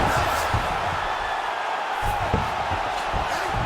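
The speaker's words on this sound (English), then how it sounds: "And you hear the crowd react every time." An arena crowd roars and cheers in the UFC 4 video game as a fighter is hurt, a dense continuous wash of noise with a commentator talking over it.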